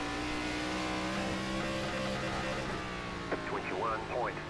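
An ARCA race car in the iRacing video game accelerates at USA International, a steady rising engine drone that carries close throughout, with a voice speaking over it near the end.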